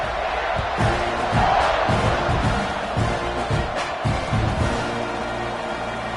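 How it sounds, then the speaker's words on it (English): Large football stadium crowd buzzing and roaring with scattered whoops after a touchdown, a dense wash of cheering swelling and easing throughout. "this crowd is buzzing after that last score"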